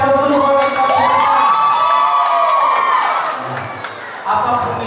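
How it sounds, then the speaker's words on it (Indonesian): Audience at the final night of a dangdut singing contest in Masohi erupts in loud cheering, whoops and applause, with excited shouted voices rising and falling throughout. "beri aplaus dulu"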